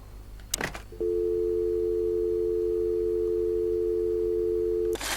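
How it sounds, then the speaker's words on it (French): Telephone receiver in the game Chicken Police, a brief clatter as it is picked up, followed by a loud, continuous steady dial tone lasting about four seconds before it cuts off with another clunk. "Déjà on va appeler au téléphone."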